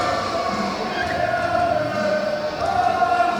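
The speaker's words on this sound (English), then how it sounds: "A 15-year veteran comes out and they boo him." A wrestling crowd boos David Francisco, a 15-year veteran, at a Future Pro Wrestling event. The jeering is a steady, dense roar that fills the whole stretch and holds at an even level throughout.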